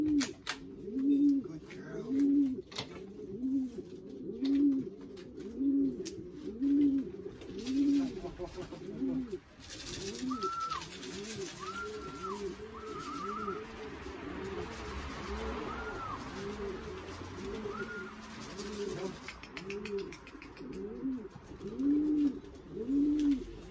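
Racing pigeons coo repeatedly in a loft after a 72-mile (115 km) race, with rhythmic overlapping coos close by for the whole span and a few higher calls in the middle.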